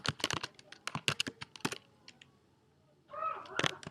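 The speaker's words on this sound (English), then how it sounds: "Here we type our Gmail account" Computer keyboard typing in bursts of quick, close, crisp key clicks, pausing briefly before another flurry of keystrokes.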